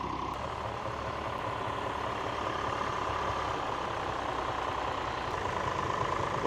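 A restored vintage John Deere tractor engine at a practice ploughing match, a steady loud idling drone that holds evenly throughout without talk.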